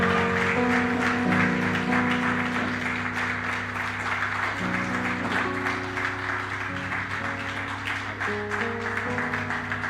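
A church congregation applauds and cheers to welcome two guests. The clapping is a steady, dense wash that goes on for about ten seconds, with sustained music tones ringing underneath.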